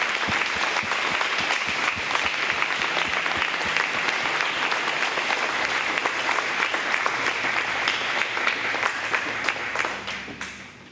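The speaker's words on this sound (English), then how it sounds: "Let's give a round of applause for these 14 lovely ladies." Full, dense audience applause at a county fair queen contest for fourteen contestants, a loud, sustained roar of many hands clapping that holds steady and fades near the end.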